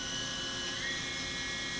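A Matsuura four-axis vertical machining center spindle runs up in speed, giving a steady high-pitched whine over a broad hum, continuous and fairly loud throughout.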